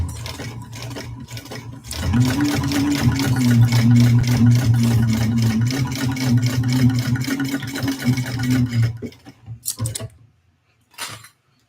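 A sewing machine runs a long continuous stitching burst on a bowler bag seam, loud and close with a steady motor hum and rapid needle rattle, then slows and stops, followed by brief quieter mechanical clicks.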